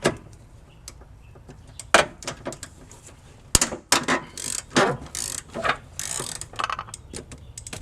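A ratchet with a 17 swivel socket works on motor mount bolts of a 2009 Honda Pilot during a timing belt job, giving a series of rapid metallic clicking bursts, close and loud, with pauses between strokes.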